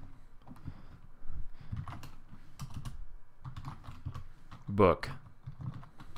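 Keys clattering on a computer keyboard in quick, uneven bursts while Ruby code is typed, close and fairly quiet, with someone talking softly over parts of it.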